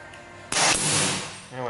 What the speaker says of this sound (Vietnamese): Súng bắn rất mạnh các bạn.